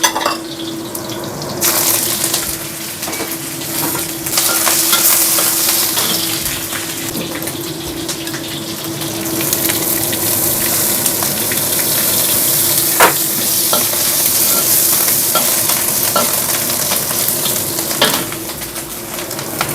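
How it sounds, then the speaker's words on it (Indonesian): Water spinach (kangkung) stir-frying in a home kitchen gives a steady, loud sizzle with occasional stirring clatter, running continuously throughout. "Sekarang tumis kangkung, teman-teman"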